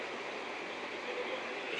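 A train arrives at Beas junction with a steady, loud rumble and broad rushing noise, continuous for the whole moment.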